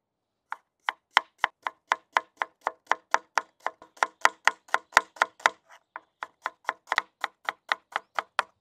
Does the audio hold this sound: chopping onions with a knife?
yes